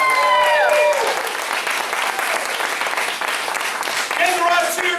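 Loud, dense applause from a crowd at a martial arts belt ceremony, continuous clapping for several seconds with a few voices calling out over it.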